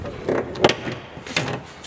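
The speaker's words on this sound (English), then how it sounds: "You gotta love that squeaky door." A squeaky door on a Dodge Cummins diesel pickup truck creaks open in a few short, close squeals and scrapes, with no voices over it.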